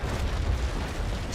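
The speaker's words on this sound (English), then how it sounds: "So I might as well give him the broadside that he deserves and loves." Ship cannon broadside in the Naval Action naval battle game, a sustained rumbling roar of heavy gunfire with deep booming low end that stays loud and continuous throughout.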